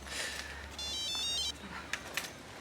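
A mobile phone's electronic ringtone chimes briefly and faintly in a quiet room, a short burst of repeating tones followed by a couple of soft clicks.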